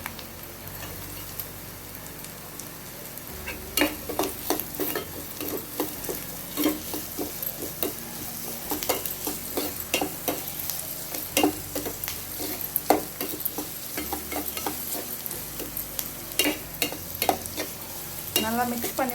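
Beans and carrots sautéed in a pan for rava kichadi, with a sizzle under repeated sharp scrapes and clacks of a spoon stirring the vegetables, and no talking.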